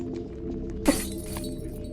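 Glass shatters once with a sharp, bright crash that cuts through a steady low hum, followed by a brief scatter of fragments.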